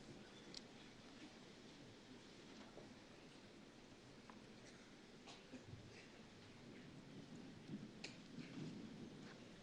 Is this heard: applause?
no